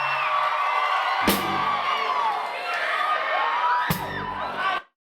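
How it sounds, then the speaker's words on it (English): An onboard mic picks up a crowd at a tour event cheering and whooping, a dense roar of many voices with shouts rising and falling, broken by two sharp bangs before cutting off abruptly. "I also have an onboard mic that's doing a lot of the heavy lifting for the crowd stuff"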